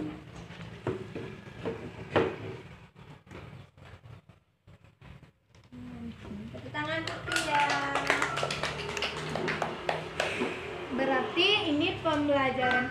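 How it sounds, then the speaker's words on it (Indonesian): A classroom of students claps in a burst of applause with many hands patting unevenly, then children's voices and a teacher's talk carry on over the room. "Tepuk tangan dulu untuk Fadila."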